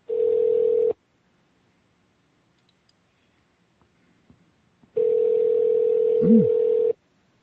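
A telephone dial tone while calling a radio show guest sounds as two steady, loud tones, about a second at the start and two seconds near the end, with near-silence and faint clicks between and no talk.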